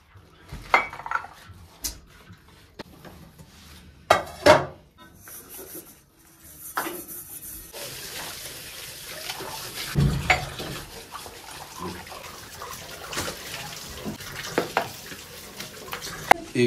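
Pots and steel dishes clatter and clink in a home kitchen sink while water runs from the tap, with sharp knocks at irregular moments over a steady, close rush of water.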